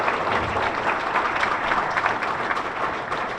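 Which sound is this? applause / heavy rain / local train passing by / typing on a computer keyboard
applause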